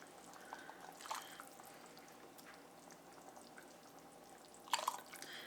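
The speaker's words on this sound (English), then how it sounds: "We're gonna go ahead, ladle some of the broth out." Broth ladled out of a simmering pot of homemade comfort food: faint liquid dribbles and splashes over a quiet bubbling background, with a clearer pour and drip near the end, close and soft with no talking.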